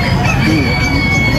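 Micro bantam rooster crowing close by amid a steady din of other fowl and murmuring voices, the crow a short drawn-out call over busy background noise.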